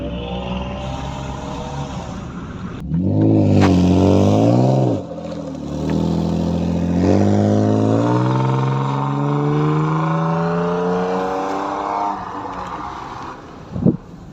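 BMW 328i with a custom exhaust line: engine revs up loud and near, with rising and falling pitch over several pulls, then settles to a steady hum before a sharp pop at the end.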